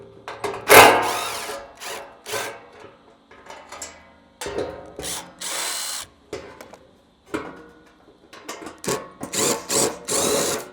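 A power tool spins out the 12mm bolts holding the front skid plate on a Toyota Tacoma, loud close bursts of whirring with short pauses between each bolt.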